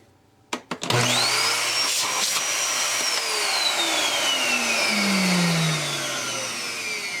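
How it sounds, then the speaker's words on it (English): Kenmore canister vacuum cleaner motor switching on after a couple of clicks, spinning up into a loud steady whine that holds for several seconds, then slowly winds down as the pitch falls, heard close with no talking. "That motor sounds more acceptable."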